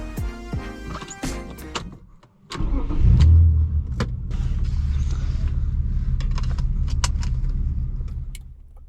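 A person gets into a car: keys jangle and a door handle clicks, then a loud door thud, followed by a steady low engine idle hum inside the cabin.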